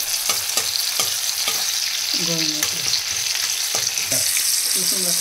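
Garam masala sizzles in hot oil with fried onions for a chicken kosha, under a steady loud frying hiss broken by repeated spatula scrapes and stirring strokes close by.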